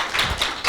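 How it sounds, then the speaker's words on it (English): Brief burst of audience clapping at a climate action conference session, a few quick loud claps close up. "A big clap."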